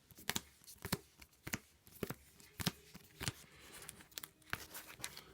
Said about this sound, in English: Shuffle these cards.